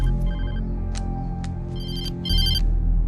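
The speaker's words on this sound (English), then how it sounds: "suddenly we get a phone call" A telephone ringtone trills in repeated bursts at a gas station in the video game Alan Wake, loud and close over a steady low hum, with no talking.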